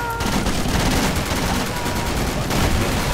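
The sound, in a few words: gunfire in Project Reality video game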